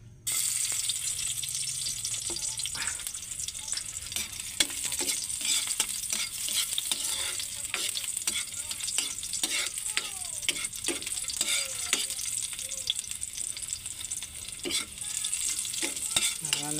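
Garlic frying in a hot pan for a home-style Filipino dish, a steady close sizzle broken by frequent sharp clinks and scrapes of a spatula stirring, with no talking.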